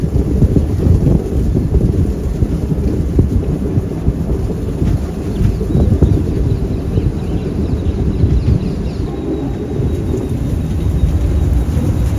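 Monsoon rain pours steadily outside a slow-moving train climbing hills toward Talguppa, a loud, dense wash of hiss over a deep continuous rumble, with no talking.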